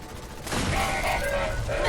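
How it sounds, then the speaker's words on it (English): Explosions in the Fallout 4 video game, a dense burst of booming blasts and crackling gunfire-like bangs that starts abruptly after a brief quiet moment and rolls on loudly and continuously to the end. "A lot of explosions"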